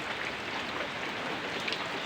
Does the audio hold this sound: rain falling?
yes